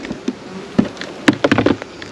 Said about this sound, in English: So there's bees, tons of them, more hive beetles than I care to admit, but at least there's bees.